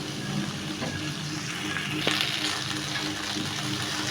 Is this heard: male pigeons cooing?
no